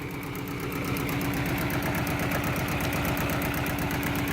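Small Allis Chalmers 5020 tractor of about 17 horsepower running steadily with a close, loud engine drone and rhythmic mechanical knocking, no talk.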